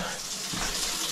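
Water runs from the tap of a Bosch TR 8501i instantaneous water heater during a test. The flow is a close, steady rushing gush, heard alone.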